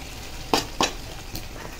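Masala going into softened, cooked-down tomatoes in a hot pan, with a steady broad sizzle and two quick scraping stirs close together, then a fainter one, with no talking.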